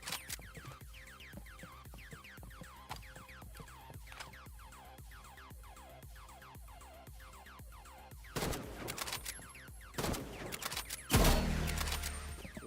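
Sniper shots in the Roblox game Rivals: a steady series of sharp, quick gun reports, followed by a few louder, denser bursts of fire toward the end.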